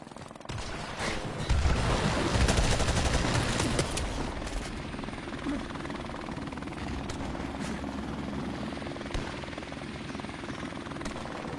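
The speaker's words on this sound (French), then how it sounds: "Hélicoptère allié en approche." A helicopter's rotor thumps steadily nearby in Call of Duty Modern Warfare Remastered, with bursts of distant gunfire crackling underneath, sounding like a game soundtrack.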